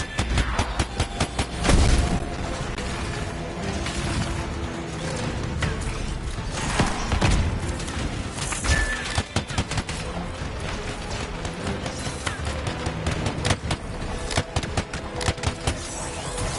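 Rapid, sustained gunfire from a weapon in the video game Anthem, rattling bursts and booming shots continuing densely for over fifteen seconds, loud and close.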